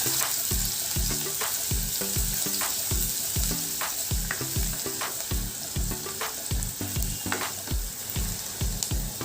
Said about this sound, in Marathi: इथे थोडासा मी कांदा घेतलेला आहे तो टाकूया मग हे थोडंसं आपण परतून घेऊया